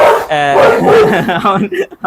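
A dog yips and whimpers up close in loud, high, wavering cries that break into short yelps, with a person's voice mixed in among the sounds.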